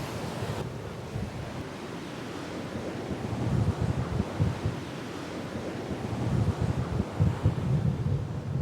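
Heavy wind buffeting the microphone at Myrtle Beach, South Carolina, with a constant rumbling roar, surf washing underneath, no voices.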